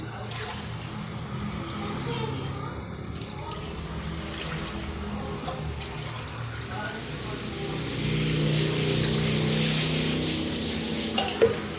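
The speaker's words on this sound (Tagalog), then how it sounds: "Di syempre maglalagay tayo ng dalawang latang tubig." Two cans of water pour steadily into a cooking pot, a broad splashing hiss that grows fuller toward the end, with low background rumble and faint talk.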